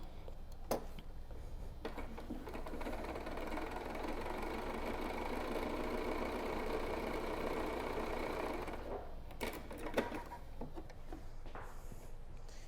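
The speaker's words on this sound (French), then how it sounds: "on est vraiment venu coudre ici" A sewing machine runs steadily for about eight seconds, stitching a pleated fabric face mask of patterned cloth. It starts and stops with brief clicks and a low mechanical hum.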